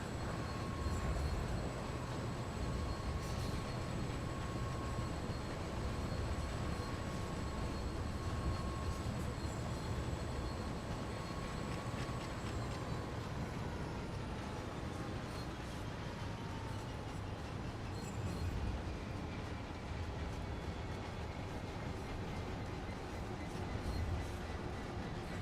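A train in Train Sim World rumbles along at a steady, low, continuous drone with faint tonal whines rising and fading over it, no voices.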